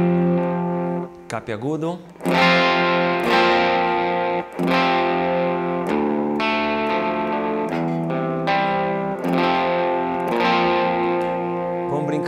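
An electric guitar plays through an Electro-Harmonix Soul Food overdrive set to higher gain, sounding sustained, thick and distorted chords with several sharp re-attacks across a long passage. A voice speaks briefly over the playing.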